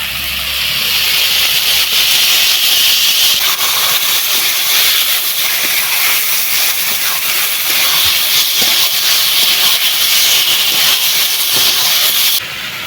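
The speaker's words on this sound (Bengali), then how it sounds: "এবার দিয়ে দেবো লোকে মাছ" Lote fish hit hot oil and spices in a pan, setting off a loud, continuous hissing sizzle that holds steady for several seconds before easing slightly at the end, with no speech.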